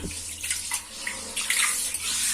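Water is poured and splashes into a bathroom tub being washed after scrubbing with cleaner, a steady, close splashing rush that swells and dips over a couple of seconds with no talk.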